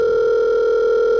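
A steady, unbroken telephone dial tone, loud and close, holding one even pitch with no pauses and nothing else heard.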